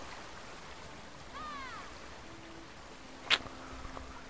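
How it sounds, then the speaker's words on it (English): A steady rush of flowing water in the video game Rime fills the scene, with a few brief warbling tones and one sharp click partway through. "That's some loud water."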